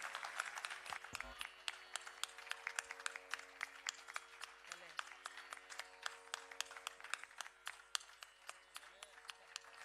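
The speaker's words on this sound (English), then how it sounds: "Can we have the applause for 2 minutes straight, please?" A full house claps steadily after an arangetram dance debut, the applause dense and continuous with a rhythmic pulse of hands throughout, and a brief voice near the start.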